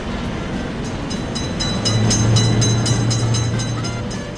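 An Indian-style game train crosses a level crossing, its rolling rumble and rhythmic rail clicks growing heavier midway as a low droning tone rises, staying near and loud.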